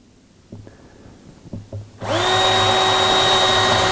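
A small power drill boring a 1.5 mm hole in particle board whines up to speed and runs steadily and loudly after a few faint taps and clicks, the motor tone holding nearly constant.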